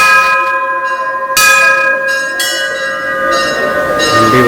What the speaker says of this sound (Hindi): मैं भी घंटी बजा लूं।